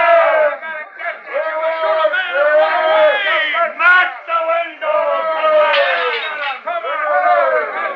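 Angry crowd in an old radio mystery drama, many voices shouting and bellowing together in a loud, continuous surging roar with sharper yells rising out of it over the full stretch.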